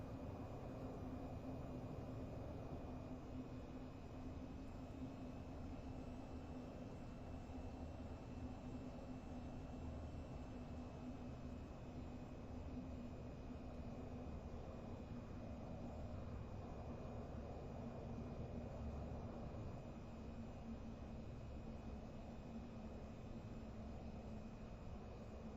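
An aircraft engine in VTOL VR hums as a constant, even drone with a high whine on top, gear and flaps down on the approach to landing, steady and unbroken from start to finish.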